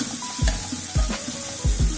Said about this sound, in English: Let them saute for at least 10 minutes till they are brown in color.